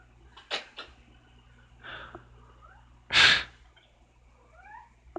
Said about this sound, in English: Sorry if you could hear my cat going off.